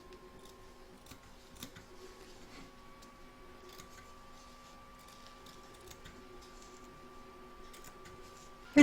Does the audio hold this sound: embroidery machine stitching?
yes